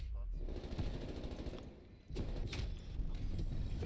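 Rapid bursts of strafe-run gunfire in Call of Duty Cold War hammer away almost without pause for several seconds, loud and dense, dipping briefly before resuming.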